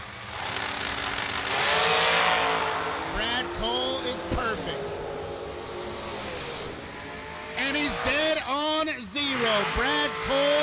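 Drag racing cars on a run in a high-stakes event: loud engines roar and rise in pitch, with repeated high revving sweeps and a car passing close, under continuous excited announcer talk.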